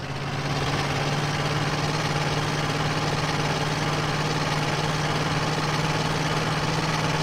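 A van engine runs steadily in GTA San Andreas, the van loaded with three tons of cargo, its engine block held together with a macrame hammock and running on old cooking oil; a loud, constant idling drone with a low hum and no voices.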